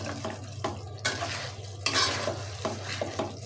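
Chicken meat frying as it is stirred in a pot, a loud continuous sizzle broken by repeated scraping sweeps of the spoon, close up and with no talk.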